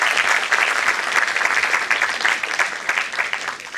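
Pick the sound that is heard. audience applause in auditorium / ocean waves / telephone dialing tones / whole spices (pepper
audience applause in auditorium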